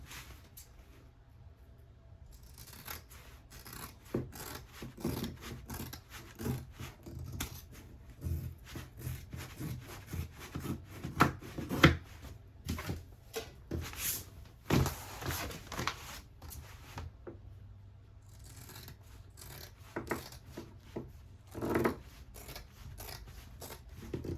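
Scissors snip through fabric seam allowances on a sewn tote bag in quick, irregular crisp cuts and rustles, close up over a faint room hum.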